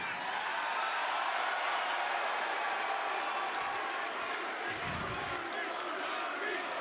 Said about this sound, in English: Hold your applause till after I'm done, please.